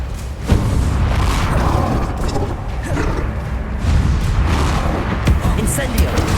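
Fiery Confringo blasts in Hogwarts Legacy combat: loud booming impacts and crackling bursts repeating over a dense, continuous battle din, with voices calling out between them.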